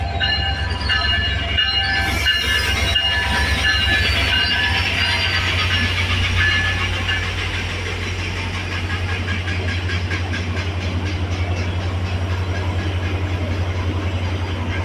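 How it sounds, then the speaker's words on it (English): A train rumbles past steadily and loudly, with a low engine drone and clattering, squealing wheels throughout. "The train."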